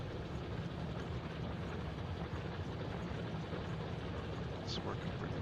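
A train in the video game Factorio Space Age rumbles past as a steady, even roar throughout, with a brief high chirp near the end.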